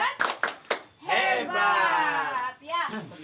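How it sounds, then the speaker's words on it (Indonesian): A group claps a short rhythmic cheer clap in a classroom or training session: a few sharp bursts of clapping, followed by voices chanting together loudly. "Tepuk hebat."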